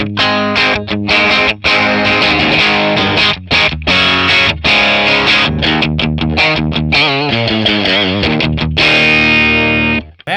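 Electric guitar played through an overdrive drive pedal on a ToneX rig, thick distorted chords and riffs ringing loud and continuous with brief gaps between phrases.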